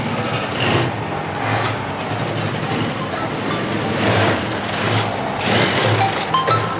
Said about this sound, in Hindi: जुकी के जो सब स्टिचिंग की मशीनें हैं उसके ऊपर प्रॉपर काम होता है।